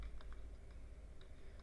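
Light tapping on a computer keyboard while writing Fortran code, a few soft scattered keystrokes, faint and close over a low background hum, no talking.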